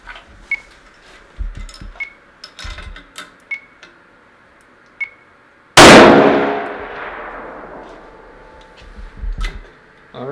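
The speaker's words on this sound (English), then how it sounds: "Let's do the last shot." A single loud rifle shot cracks out partway through in a ballistics lab, its sharp report followed by a decaying ring, after scattered quieter clicks and ticks of equipment.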